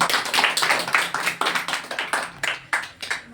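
Schoolchildren in a grade 7 classroom clap together on request, a loose, uneven burst of hand claps with sharp peaks that fade and restart, fairly close and loud with no talk over it.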